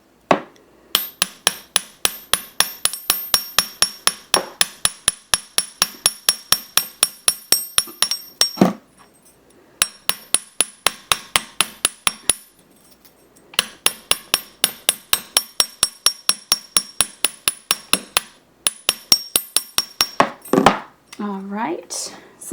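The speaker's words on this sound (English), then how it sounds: "Then I'm going to hammer this wire to strengthen it." Rapid steady metallic hammering on jewelry wire as a wire-wrapped cabochon Tree of Life ring is hardened, dozens of sharp close ringing taps in quick bursts with short pauses, alone without talk.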